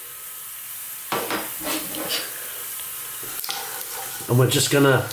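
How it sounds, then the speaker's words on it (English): Dried chili and cumin seeds crackle and splutter in hot oil for a vegan black urad dal, with a soft hiss rising into sharp spattering pops near the end. A person talks over it. "let them do their thing in the oil just for a few seconds. They'll splutter a little bit"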